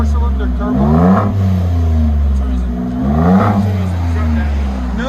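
A 2022 Ford F-150 EcoBoost turbo truck with Carven R-Series dual exhaust revs up twice, a loud, deep, close engine swell rising and falling over a steady idle rumble.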